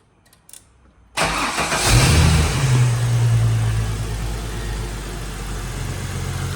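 Holden Commodore Ecotec V6 cranks and fires immediately, flaring in revs before settling into a loud, steady idle close by, with no voices.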